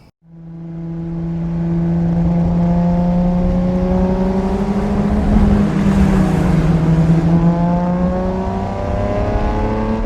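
A car engine drones steadily at speed, starting suddenly and then holding a loud, sustained hum with a slowly shifting pitch and no voices over it.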